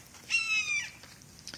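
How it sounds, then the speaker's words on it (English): A single hawk's squawk in Florida, a brief harsh, high descending cry, rings out once at moderate distance over quiet background. "That's a Florida Hawk squawking."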